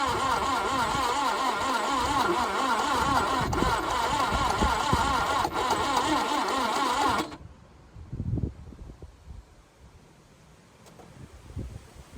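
A 1988 Subaru Brumby engine cranks repeatedly without catching, a steady rhythmic churning for about seven seconds that cuts off abruptly, followed by quiet clunks and faint handling noises.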